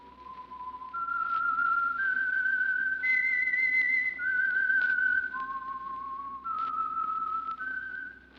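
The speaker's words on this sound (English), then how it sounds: "That whistle is your signal" A clear, steady whistled melody of sustained notes stepping up and down, carried alone over faint background hum.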